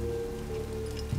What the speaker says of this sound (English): I see the rain behind him.